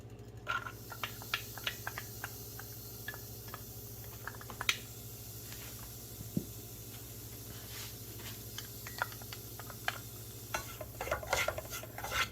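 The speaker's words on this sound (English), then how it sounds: "To this, we are going to add our onions and garlic." Onions and garlic stirred in a pot with cumin, cooked without oil, give quiet, scattered scrapes and clicks of a spoon at an uneven pace over a soft, constant background hum.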